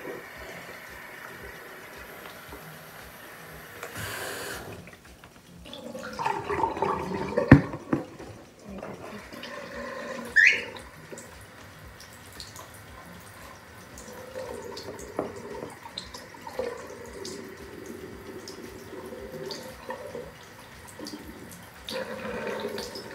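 Tap water runs steadily while something is rinsed under it in a home, with brief clatters and drips partway through, fairly close and moderate in level.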